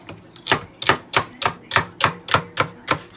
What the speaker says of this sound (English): Celery I'm just cutting now.